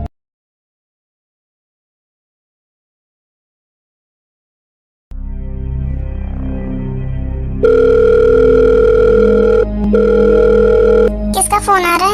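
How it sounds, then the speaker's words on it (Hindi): A telephone rings loudly with steady electronic tones after several seconds of silence, preceded by a low rumbling background and continuing in two long bursts with a short break. "किसका फोन आ रहा है?"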